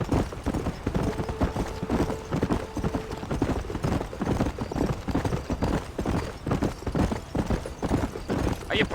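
Horse galloping in Red Dead Redemption, a rapid, steady run of hoofbeats close by that continues throughout at an even rhythm.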